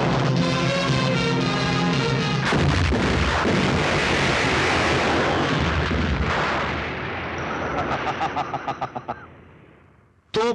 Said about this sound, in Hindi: तोपों की गूंज सुनो